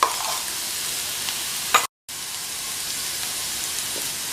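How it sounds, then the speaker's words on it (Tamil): Carrots fry in hot oil with an even, steady sizzle, broken once by a brief gap near the middle, with faint stirring scrapes and no voices. "கேரட்டை 2 நிமிஷம் போல் இந்த எண்ணெயிலேயே நல்லா இந்த மாதிரி ஃப்ரை பண்ணிக்கணும்"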